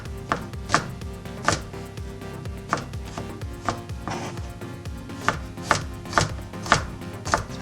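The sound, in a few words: chopping food with a knife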